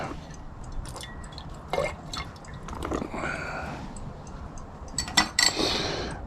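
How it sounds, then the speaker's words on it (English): A laboratory stir bar is rinsed under running water, a faint trickle and splash with scattered light clinks of metal and glass, close but quiet, growing busier toward the end, with no speech. "I'll just rinse off the stir bar."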